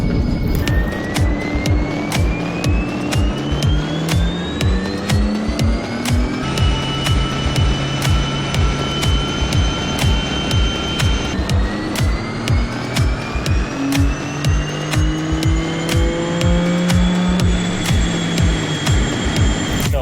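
A BMW M4 G82 with a Stage 2 Bootmod3 E50 flash tune accelerates past 200 km/h, its loud engine drone climbing steadily in pitch through each gear before brief shift drops, heard continuously from inside the car with no talking.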